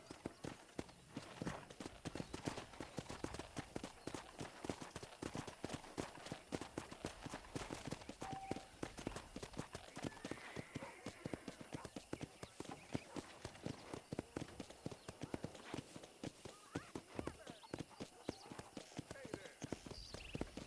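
Steady clip-clop of horse hooves at a brisk trot in Red Dead Redemption, continuous and fairly quiet throughout, with a faint whinny partway.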